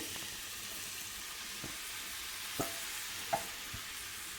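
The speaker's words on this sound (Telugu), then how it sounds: "ఇప్పుడు మరి కాస్త నెయ్యి వేసుకోవాలి. ఆ తర్వాత మనం అదే కడాయిలో ఇందాక తురిమి పెట్టుకున్న సొరకాయని వేసుకోవాలి." Grated bottle gourd frying in ghee in a kadai for halwa, a steady faint sizzle broken by a few soft scraping stirs of the spoon.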